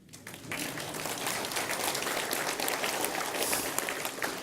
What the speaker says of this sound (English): That usually gets a round of applause,